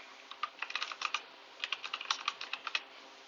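Quick, light clicks of typing on a computer keyboard, two close bursts of rapid keystrokes with a brief pause between, crisp and near in a quiet room.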